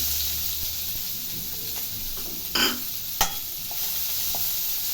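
Chopped onions frying in hot oil for Maggi masala noodles, a steady soft sizzle with light stirring scrapes and a couple of brief louder clatters, close and continuous with no talking.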